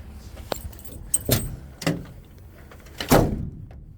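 The door of a 2006 dump truck is pushed shut, with a few metallic clunks and rattles followed by a final louder latch thump, close by with no talking.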